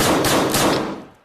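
Rapid burst of gunfire from a handgun in the VR game Tactical Assault as the last rounds are emptied, several sharp close shots run together before quickly fading away.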